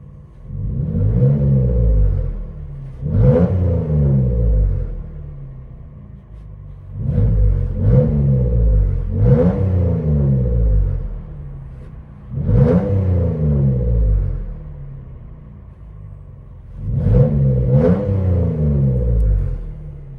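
A straight-piped 2014 Jeep Wrangler Rubicon with a 3.6L V6, heard from inside the cabin, rumbles loudly through four separate revving surges that rise and fall, with a lower idle drone in between.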